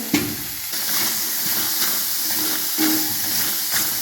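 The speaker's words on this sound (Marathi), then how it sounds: "टोमॅटो आपल्याला अगदी चांगलं भाजून घ्यायचं आहे" Chopped tomatoes roast in a hot pan with a steady, loud hissing sizzle, broken by a few sharp scraping clatters as they are turned.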